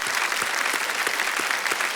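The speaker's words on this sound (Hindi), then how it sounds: "और तालियों के साथ आपका अभिनंदन हो रहा है।" A studio audience at a televised quiz show claps steadily and fairly loudly in a dense, even wash of applause, with no voices heard over it.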